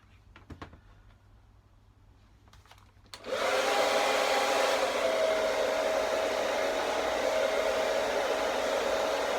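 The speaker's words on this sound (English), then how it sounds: "really keep the hairdryer moving to begin with" A hair dryer drying glue on moulded arms switches on after a few seconds of quiet clicks and rustling, then blows loud and steady with a constant whine.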